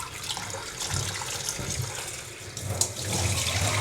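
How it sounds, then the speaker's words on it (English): Beef rinsed under a running kitchen tap gives a steady close splash of water with faint shifting gurgles as the meat is moved about. "We need to rinse away the baking soda so we don't get the metallic taste."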